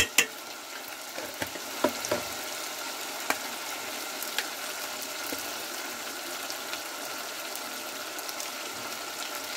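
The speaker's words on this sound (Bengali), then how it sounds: "আদা রসুনের কাঁচা গন্ধটা চলে যাবে, সেই জন্য এইভাবে নেড়ে নিচ্ছি।" Ginger and garlic frying in a pan for a country chicken curry, a continuous close sizzle broken by occasional scraping taps of a spatula as the mixture is stirred.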